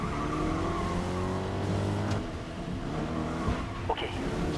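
Shelby Cobra race cars in the racing game GRID Legends, engines droning steadily at high revs through a track-day final, a continuous loud roar with brief shifts in pitch and no talk.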